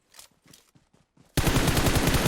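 Sustained loud automatic gunfire in PUBG Mobile, a dense continuous burst that cuts in abruptly after a few faint, scattered sounds and runs to the end.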